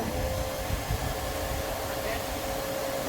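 A vacuum cleaner runs nearby with a steady, even roar and a faint constant whine on top, holding the same level throughout.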